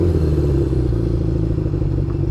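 A motorcycle engine idles steadily with a low, throbbing rumble, close by and fairly loud, with no one speaking.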